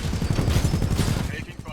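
Rapid bursts of gunfire from a Titanfall 2 firefight, dense and continuous across the moment, with a voice and other game sounds mixed underneath.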